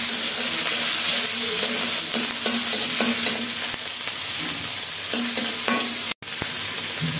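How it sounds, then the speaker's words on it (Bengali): Spice paste for a mustard rohu curry fries and is stirred in a pan, a steady close sizzle with repeated spatula scrapes and stirring knocks, with no talking. "এগুলি একটু ভালোভাবে কষিয়ে নিই।"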